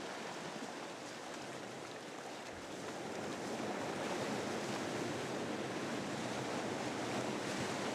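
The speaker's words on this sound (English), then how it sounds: "high waves often carry new material to the shore" Mediterranean sea waves breaking on a shore scattered with washed-up logs, a broad continuous roar of surf that swells slightly louder midway, with wind buffeting the microphone and no voices.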